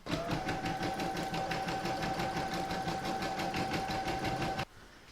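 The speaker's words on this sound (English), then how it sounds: "I'm now going to pop this into my machine and stitch round number 1, and that's going to give me my outline." Embroidery machine stitching the outline of an in-the-hoop poppy coaster: a steady, rapid mechanical stitching rhythm with a faint whine, running continuously close by before stopping abruptly near the end.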